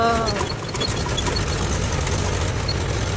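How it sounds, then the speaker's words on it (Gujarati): A steady, low tractor engine idle rumbles throughout, close and continuous, with a faint mechanical chatter on top and no speech. "ટ્રેક્ટરનો અવાજ આવતો એટલે તમને સંભળાય નહીં"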